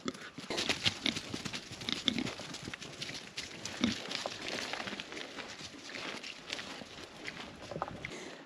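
Goats scramble back down on a rural smallholding, a busy patter of hooves and scuffling movement at moderate distance with faint bleats, no talk over it.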